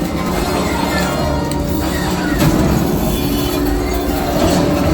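A train in a video game rumbles loud and continuous, a dense roar of wheels and machinery with no break.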